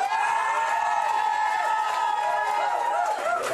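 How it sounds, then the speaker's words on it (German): A live audience cheers and applauds for actor David Kross at an evening event, with a dense, steady wash of clapping, shouts and whoops filling the room. "Deswegen ganz kräftigen Applaus für David Cross."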